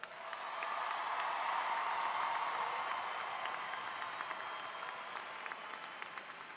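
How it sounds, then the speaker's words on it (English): A large arena audience applauds the graduating class of 2019 at a Johnson & Wales Charlotte campus commencement, a steady, fairly distant wash of clapping that swells early and slowly thins. "Let's have a round of applause for the class of"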